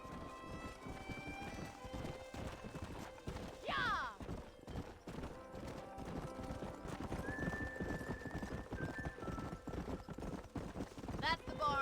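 Horse hooves clip-clopping at a steady riding pace in the Red Dead Redemption video game, with two sharp whinnies and neighs breaking through, all beneath continuous game music and ambience.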